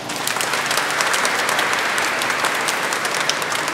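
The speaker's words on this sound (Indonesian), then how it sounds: "Tepuk tangan untuk paroki kita." A parish congregation applauds at a 75th anniversary church celebration, dense sustained clapping from many hands filling the room evenly for several seconds with no talk over it.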